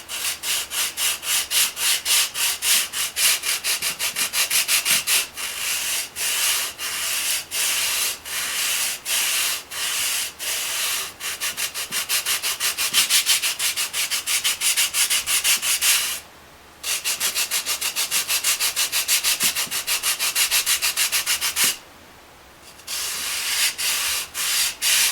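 Rapid, rhythmic scratchy strokes of a sanding block rubbing the foam and cardboard front of an N scale model speedometer, continuing steadily with two short pauses, close and fairly loud.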